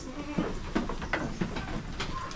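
A castrated male goat that chases the female goats bleats several times in short, uneven calls at moderate distance over a low background hum.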